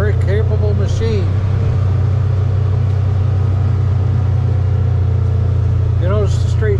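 A UTV runs along hilly backwoods trails near Fairfield Bay, Arkansas, its engine producing a loud, steady low rumble throughout, with a voice talking over it at the start and end.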